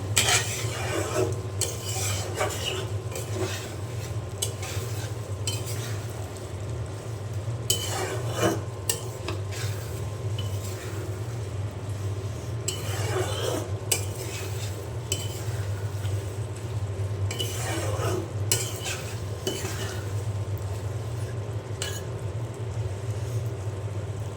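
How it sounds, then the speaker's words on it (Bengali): Beef tripe curry being stirred in a pot, with repeated scraping strokes of a utensil against the metal every few seconds over a steady low background hum. "আমি এখন খুব ভালো করে নেড়ে দেবো"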